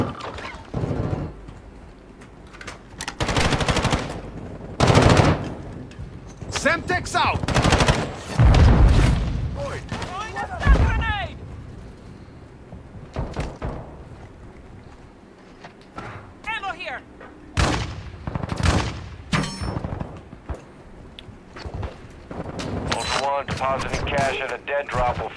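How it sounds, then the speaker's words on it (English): Gunfire in the video game DMZ, including sniper shots, heard as repeated sharp cracks and short bursts spread across the stretch, mixed with players talking over the fight. "the sniper's still shooting at us"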